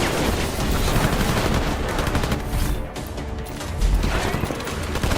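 Sustained gunfire from the gun arm augmentation of Adam in a Deus Ex game, a dense, loud burst of rapid shots running the whole stretch with crashing impacts mixed in.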